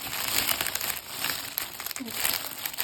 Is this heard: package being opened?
yes